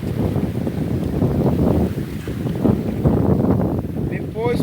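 A strong windstorm buffets a fishing boat heading to shore, gusts blasting the microphone in heavy rumbling bursts over the engine and water, while someone talks.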